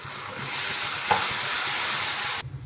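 Onion and tomato puree frying in a pan while making Delhi-style chole, a steady close sizzle with a brief stir knock midway, cutting off sharply near the end.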